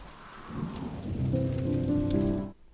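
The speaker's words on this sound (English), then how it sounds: "Now we're into a storm." An album track opens on a thunderstorm, with a low rumble of thunder swelling under steady rain and a faint tonal drone entering before everything fades out.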